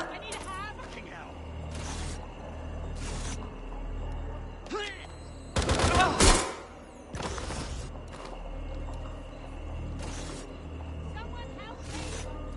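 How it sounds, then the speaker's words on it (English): Gunfire rings out in the video game Watch Dogs: Legion, a few sharp shots with a louder cluster in the middle, over low game ambience, while characters talk and shout around it. "Gunfire!"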